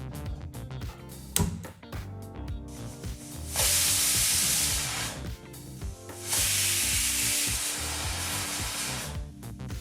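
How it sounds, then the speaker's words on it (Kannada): A pressure cooker holding field beans for a saagu lets out steam in two long, loud rushing hisses, with a busier clattering kitchen background before the first. "ಈಗ ಇಲ್ಲಿ ಕುಕ್ಕರ್ ಎರಡು ಬಿಸಲ್ ಬಂದಾಯಿತು"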